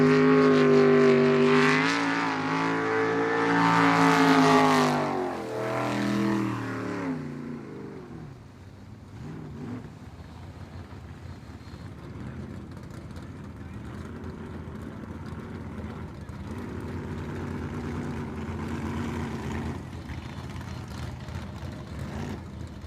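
A racing boat from the ASBR Pro Racing Series runs the course at Yakima, Washington. A loud engine whines and revs up close for several seconds, then drops to a fainter, distant drone while a voice talks over it.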